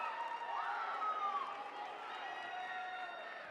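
Crowd at a Utah high school girls' state tournament basketball game applauds and cheers as a Skyline player heads to the bench, a steady mid-distance wash of clapping and voices with a few whoops rising above.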